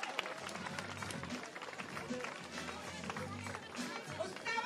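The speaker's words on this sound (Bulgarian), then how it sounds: "Аплодисменти за Кира. Аплодисменти за дамата." Crowd cheering and clapping at a CrossFit throwdown competition, a busy mix of scattered claps and shouts under a loud announcer talking over the noise.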